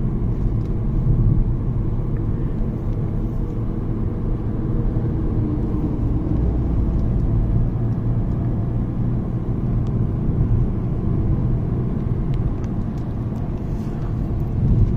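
Cabin drone of a non-turbo Nissan Magnite accelerating gently up to about 90 km/h on the road: a loud, steady low engine and road rumble that holds throughout without breaks.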